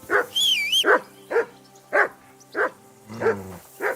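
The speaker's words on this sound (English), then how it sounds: "call off that dog and then we can talk" A dog barks repeatedly in the video game Kingdom Come: Deliverance II, six or seven loud close barks in a steady rhythm, with a brief whistle-like tone near the start.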